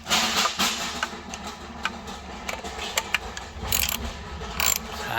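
Ratchet tightening bolts on a Pontiac Trans Am engine, a series of quick clicking pawl bursts in short repeated strokes, fairly close and moderately loud.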